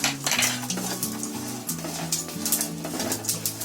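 Mixed seeds and sunflower seeds dry-roasting in a pan, stirred with a utensil that scrapes and clinks in quick irregular strokes over a faint steady crackle, close by and with no talk.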